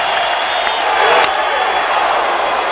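A baseball stadium crowd roars steadily as it urges on a strikeout, a broad loud wash of cheering with a few sharp claps and whoops and a commentator's voice underneath.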